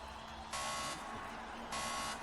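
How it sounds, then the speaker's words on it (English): A harsh electronic race-start buzzer in the Project Cars racing game sounds twice in short blasts, bright and steady, over a low background hum, at a Clio Cup race at Silverstone National. "The buzzers are on, the lights are on, and they're off."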